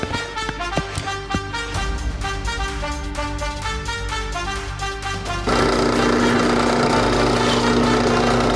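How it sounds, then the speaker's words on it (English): A power drill boring holes for a hook rack runs steadily with a rapid mechanical chatter, then its pitch and loudness rise sharply partway through as it bites harder. "Now we are going to drill some holes"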